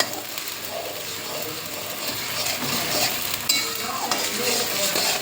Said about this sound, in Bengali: পেঁয়াজটা একটু কষিয়ে নিচ্ছি